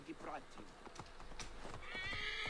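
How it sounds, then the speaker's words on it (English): A horse in Assassin's Creed Origins clip-clops and whinnies quietly beneath someone talking over the game, hooves tapping in a loose rhythm before a brief neigh near the end. "Come on, jump on the horse, man."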